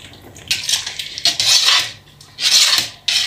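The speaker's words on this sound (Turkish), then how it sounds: "Şimdi ben bunu karıştırıyorum son kez." A utensil scrapes and clatters against a pot while a hot breakfast sauce is stirred, in several loud, uneven bursts of rasping metal with short pauses between them.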